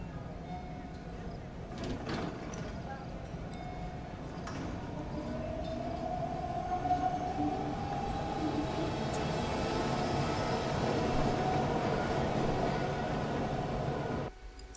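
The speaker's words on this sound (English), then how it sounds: "They gotta go take the subway." A subway train in The Sims 3 builds from a low rumble into a rising mechanical whine that holds steady through most of the stretch, with faint voices and game sounds underneath.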